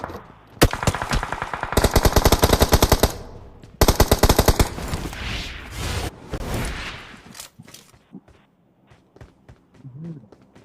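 Automatic weapons rattle in a battle royale video game, with two dense, loud bursts of rapid fire followed by scattered single shots that thin out and fade toward the end.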